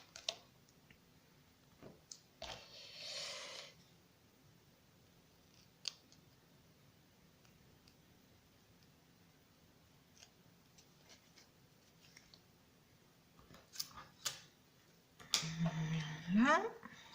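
Scissors trimming excess paper from a glued card project, a few short snips scattered through a quiet stretch, with a louder burst of cutting and rustling near the end and a voice speaking in places.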